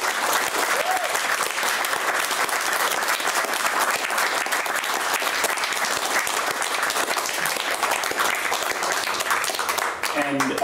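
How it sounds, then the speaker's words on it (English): Sustained round of applause from an evening audience for a panel, loud dense clapping throughout with a few voices mixed in, tapering slightly near the end. "can we have another round of applause for everyone here?"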